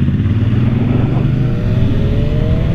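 BMW M1000R naked motorcycle engine and exhaust revving up close and loud, a steady throaty drone with rising pitch as it accelerates, no voices over it.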